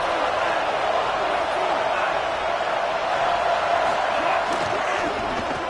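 A dense, steady roar of a stadium crowd in a college football video game, loud and unbroken, with a commentator's voice talking over it.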